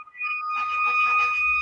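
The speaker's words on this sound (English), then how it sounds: "Someone's got a siren going off" A siren goes off in the background of a guest's microphone during a live online stock-market stream: a steady, piercing electronic tone over a noisy rumble, brief and fairly loud.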